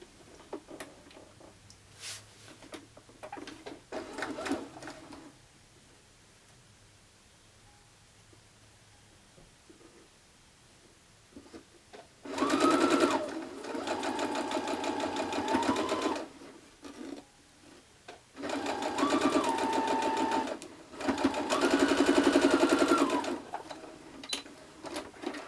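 A sewing machine stitches quilt pieces for a mini quilt in bursts of rapid mechanical whirring, three main runs of a few seconds each, separated by quiet pauses with faint handling sounds.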